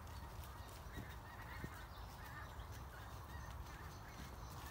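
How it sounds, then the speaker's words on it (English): Faint honks of geese flying overhead drift over a steady outdoor background near bare trees, a few scattered calls at a distance with no talking. "You might even be able to hear the geese flying in the sky."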